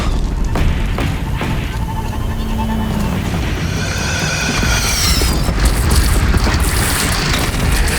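Heavy cannon blasts boom out during a chaotic battle in Horizon Zero Dawn, deep low rumbles rolling continuously under whooshing, crackling game effects and scattered higher bursts.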